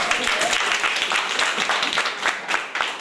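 Students at a school gathering in Sierra Leone clap in response to a promise of scholarships, a loud, lively burst of many hands with sharp individual claps standing out, voices mixed in underneath.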